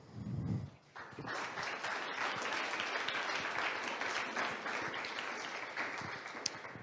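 Conference audience applauding after a speaker, sustained dense clapping filling the room for several seconds following a brief low voice at the start.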